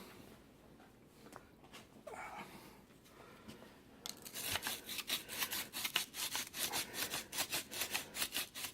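A trumpet tuning slide being sanded by hand with sandpaper while converting a Bb trumpet to C, starting as faint scratching and turning into loud, steady rhythmic back-and-forth rasping strokes.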